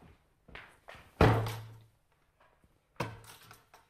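A door slammed hard in a house: a loud booming thud with a short ringing decay, preceded by lighter handling knocks and followed by another thump a moment later.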